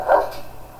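A dog gives a single short, loud bark close by at a dog rescue centre in Spain, with nothing else following.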